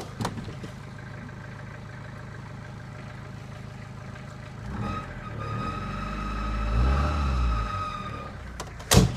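A car engine idles steadily nearby during an exhaust check after starting trouble, with a louder rumbling swell partway through and a brief sharp clunk at the end.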